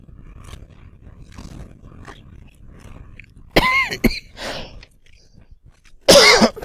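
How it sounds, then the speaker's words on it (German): A man coughs hard into a close microphone during a League of Legends session, two loud rough bursts after quieter background game noise and throat sounds. "Entschuldigung, dass ich euch so in die Ohren gehustet habe."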